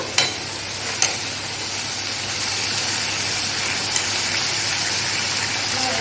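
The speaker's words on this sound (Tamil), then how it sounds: "லைட்டாக பெப்பர் தூள் போட்டு நல்லா கிண்டி விடணும்" Country chicken chukka with pepper powder being stirred in a pan, a steady broadband sizzle of frying with a couple of sharp scraping knocks near the start and a soft one later, no voices.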